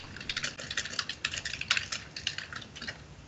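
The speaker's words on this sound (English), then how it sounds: "Sorry about that keyboard." Fingers rattle across a computer keyboard in quick irregular bursts of clicky keystrokes. The typing is close and fairly loud, with short pauses between flurries and no speech.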